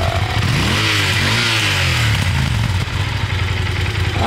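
A Yamaha TDM 900 motorcycle engine revs up and winds back down to a burbling idle, loud and close.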